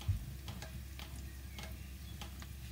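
Chopped onions fry gently in a pan as the base for a fish and shrimp curry, a soft, steady sizzle with a few faint stirring scrapes, quiet and without talk.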